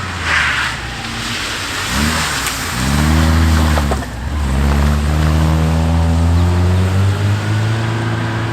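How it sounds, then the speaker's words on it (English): Saab 96 front-wheel-drive V4 historic rally car on a skid pan, its engine revving hard in loud, close bursts that rise and fall, then holding a steady high drone; no talking. "Next car up, front wheel drive, the Saab 96. This one with a V4 engine."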